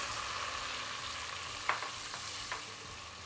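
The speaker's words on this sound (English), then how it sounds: "So once the oil gets hot, I'm going to add in my peppers" Yellow and red Scotch bonnet peppers and onions frying in hot oil, a soft continuous sizzle with a couple of brief stirring knocks, fairly quiet and without talk.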